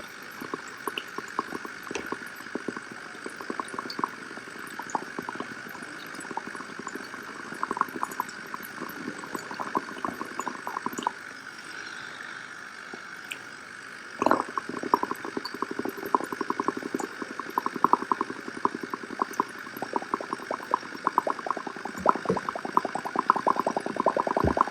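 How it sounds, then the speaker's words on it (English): Air bubbles are blown through a tube into limewater in a beaker, making faint continuous bubbling and gurgling with irregular pops that grow busier toward the end, heard up close with no speech. "put in more air bubbles into the right beaker"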